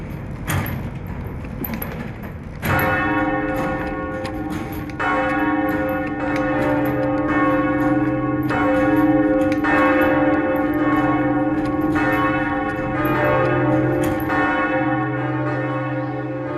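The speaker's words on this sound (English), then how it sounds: "The bells that are there today were cast in 1856, with bronze from cannons captured at the Battle of Sebastopol." Bronze bells of Notre Dame cathedral in Paris, cast in 1856, ring out loud and resonant, their struck tones overlapping in a sustained, ringing peal with no voices present.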